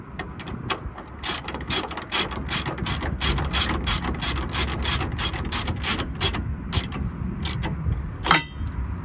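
A 19 mm ratchet wrench tightens a shock absorber bolt on a 2006 Ford F-150 with a long, fast, steady run of sharp clicks, close up, with a low mechanical rumble underneath and no talk.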